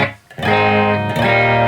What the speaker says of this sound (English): here's my clean guitar sound